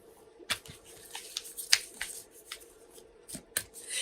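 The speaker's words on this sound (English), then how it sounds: "now I'm shuffling our Sacred Traveler Oracle cards" Sacred Traveler Oracle cards are shuffled in a quiet series of sharp riffles and soft flicks, irregularly spaced and close to the listener.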